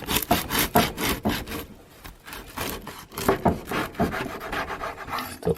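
A knife saws through a crusty loaf of homemade sourdough bread in quick rhythmic strokes, close up, each stroke a crisp rasping crunch, with a short pause midway and no talking.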